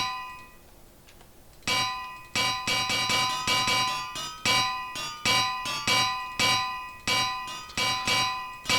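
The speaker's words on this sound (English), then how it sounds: "I do like the sound of a falling anvil in Minecraft." Metallic clangs from anvils dropping in the Minecraft video game, about fifteen bright ringing impacts in quick irregular succession after a quiet start, each loud and close with a short bell-like decay.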